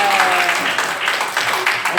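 Seminar audience clapping briefly in scattered bursts, mixed with a speaker's voice talking over it nearby.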